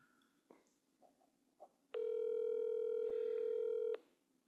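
A steady electronic phone ringback tone while calling someone, holding for about two seconds after faint rustles and small noises.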